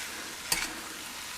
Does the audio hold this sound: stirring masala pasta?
yes